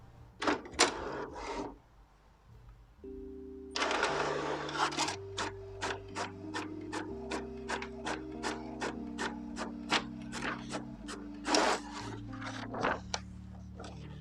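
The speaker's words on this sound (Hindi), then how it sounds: "अभी यहाँ से पहला पेज प्रिंट करके मैं आपको दिखाता हूँ" An HP DeskJet 1212 inkjet printer prints its first page: a low motor hum with steady rhythmic clicks as the print head shuttles back and forth, preceded by a few loud feed clacks, close and alone.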